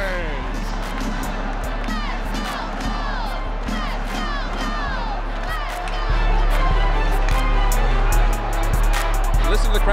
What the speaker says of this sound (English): Listen to the crowd right now. They're just going crazy.